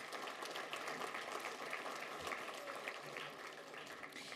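Faint, sustained audience applause for Business Council members at a conference, an even wash of many hands clapping that eases off slightly toward the end.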